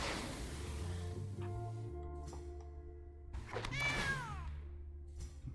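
A cat meows several times, including one drawn-out, rising-and-falling call near the end, close and clear over a faint background hum.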